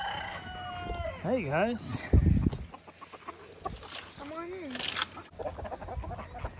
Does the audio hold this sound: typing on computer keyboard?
no